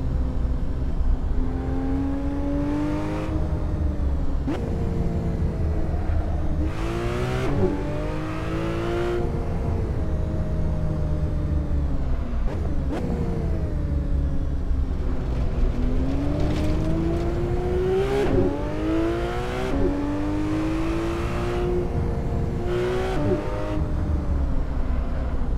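A car engine revs and shifts repeatedly during a hill climb on a California highway in Assetto Corsa, climbing through the gears then dropping with each braking zone, loud and continuous.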